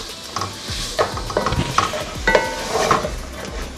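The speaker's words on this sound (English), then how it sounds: "Now I'm just gonna add 1 tablespoon of butter" A tablespoon of butter hits a hot pan of pineapple shrimp fried rice, sizzling steadily while a utensil scrapes and stirs in repeated close strokes, no voices.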